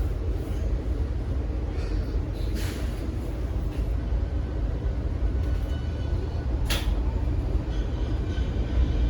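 A Washington Metro Orange Line 6000 Series train rumbles steadily nearby with a continuous low mechanical roar and faint high squeals, sounding like it is pulling away from the platform.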